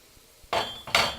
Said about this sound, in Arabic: ونقلب البصل مع البهارات